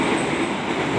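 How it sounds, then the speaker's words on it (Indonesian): The Argo Wilis express train races through an Indonesian railway station, a loud, close, continuous rumble and rattle of wheels without pause. "kereta api Argo Wilis cukup kencang ini melewati stasiun"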